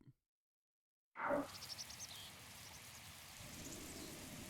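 Rain falls steadily in a video game scene, a dense hiss that begins abruptly after a moment of silence and keeps up at a moderate, even level with faint chirps above it.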